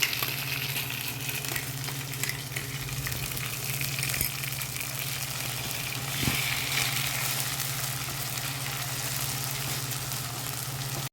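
Ginger, garlic and onion paste frying in a pan for fish curry gives a continuous, even sizzle close by, with occasional stirring scrapes and a low hum underneath, and no one speaking.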